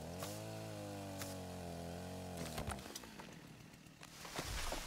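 A chainsaw in the video game Rust, worn down to low durability and starting poorly, runs in a steady buzzing drone with shifting harmonic tones, then breaks into rougher, noisier cutting sounds with sharp clicks.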